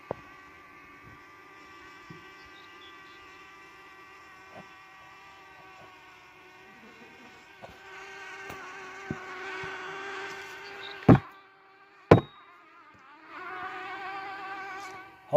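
Bees buzz continuously around a hive, a close, droning hum with shifting pitch as insects fly near, broken by a few sharp knocks and clicks.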